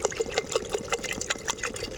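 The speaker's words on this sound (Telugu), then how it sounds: "ఇందులో వాటర్ వేసుకుందాం కొంచెం" Water poured into a pot of spicy mutton dum biryani to cook the rice, a steady close splashing trickle with small bubbling bursts, heard alone without talk.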